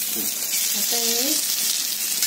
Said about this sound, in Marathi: म्हणून मी लोखंडी तव्यातच मासे तळते